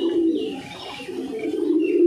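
A pigeon coos steadily in soft, throaty rolls, close by, with a faint background hiss and no talking.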